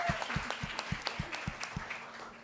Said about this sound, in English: could everybody give Bottom Brewery a big round of applause in the back?